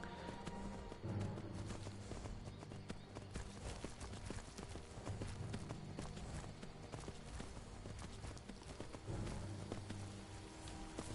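Horse hooves clip-clop in a steady running rhythm under continuous ambient game noise in Skyrim VR, moderately loud and sustained throughout.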